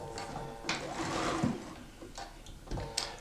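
A sewing machine stitching the long side of pinned quilt block units, short mechanical runs of whirring stitches with brief pauses between bursts, close and moderately quiet.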